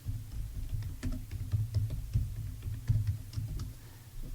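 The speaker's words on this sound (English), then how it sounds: "So I'm going to type in human resources" Typing on a computer keyboard while entering a search for scholarly articles, a quiet, fairly steady run of soft key clicks close by, without talk.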